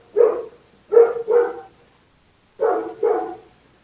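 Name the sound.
dog barking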